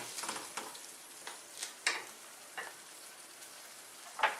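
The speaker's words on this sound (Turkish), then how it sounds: "Şimdi bunun hepsini güzel bir şekilde karıştırıyoruz" Ratatouille vegetables with tomato paste being stirred in a frying pan, a soft steady sizzle broken by a handful of scraping utensil strokes against the pan.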